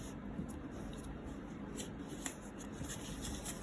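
Paper being folded and creased by hand into an origami phone stand, a continuous soft rustling and crinkling with small crisp taps, close and fairly quiet.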